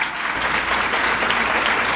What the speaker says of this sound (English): Please start off by giving ourselves a round of applause.